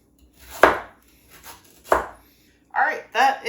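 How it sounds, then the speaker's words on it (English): Carrots being chopped into thin slices with a knife on a cutting board: two sharp, close knocks about a second apart, with a person talking briefly afterward. "I'm just gonna finish chopping."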